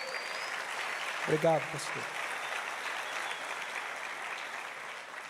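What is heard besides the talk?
audience applauding in church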